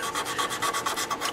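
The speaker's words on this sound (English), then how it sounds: "we're back to sanding" A wooden mandolin is sanded by hand: quick, regular back-and-forth rasping strokes, close and steady, with no talking.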